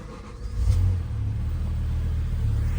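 A 2008 BMW E60 M5 with a V10 and a completely stock exhaust idles quietly in a workshop, giving a steady, smooth low rumble that swells slightly at the start and then holds even and close.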